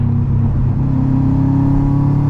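A turbocharged car pulls hard from 60 in third gear, its engine a loud, close, continuous rumbling roar that climbs steadily in pitch as it accelerates.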